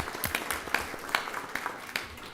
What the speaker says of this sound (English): We'll give you all a round of applause.